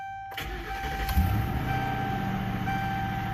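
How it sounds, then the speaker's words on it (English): A car engine cranks and catches after an oil change, then settles into a steady idle with a low rumble, heard close with no talking. "Now we have to get in the car and get this thing fired up."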